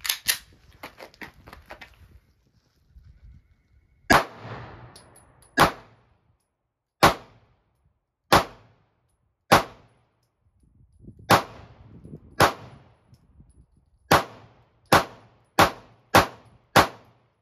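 Single shots ring out from a Smith and Wesson M&P Shield-size subcompact 2.0 handgun, about a dozen loud sharp cracks spaced a second or so apart, some with quicker follow-ups, with quiet handling noise between them.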